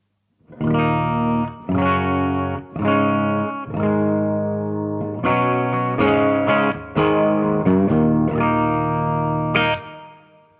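A clean electric guitar plays a series of chords and single notes through a Mesa Flux Drive pedal switched off, each ringing out with a soft reverb tail, no distortion, played alone.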